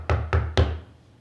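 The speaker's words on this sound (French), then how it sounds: "cogne à la porte du curé" Three firm knocks on an old church door, evenly spaced and close, each a heavy hollow thud with a short ringing decay, then the sound fades into quiet.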